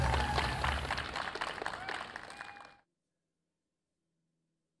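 Applause from the audience at a live-streamed trade competition, a short burst of clapping and crowd noise that cuts off abruptly, with someone speaking over it.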